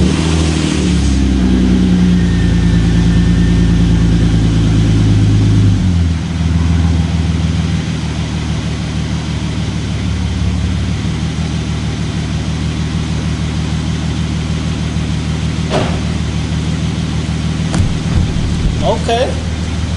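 Hyundai Genesis Coupe idling and revving with a catback exhaust, a deep loud rumble close by that swells, settles to a steady drone with a few sharp blips near the end.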